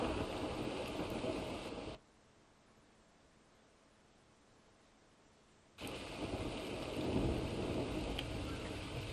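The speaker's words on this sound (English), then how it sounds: "You heard the thunder and lightning." Broadband thunderstorm rumble and rain hiss in the video game Ark, loud and steady, cutting out abruptly for a few seconds of near silence before returning just as strong.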